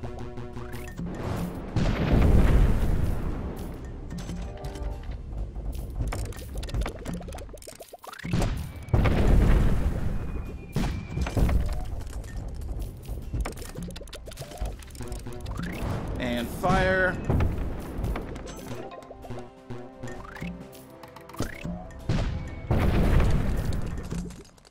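Cannon fire and explosions in the video game Cannon Brawl, repeated booming blasts and crashes scattered through a busy game soundscape of mechanical clanks and pops, with a voice talking at times.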